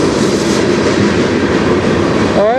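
A long, fast-moving CN freight train rumbles past close by on the Strathroy Subdivision, a loud, continuous roar of wheels and cars throughout, with a brief wheel squeal near the end.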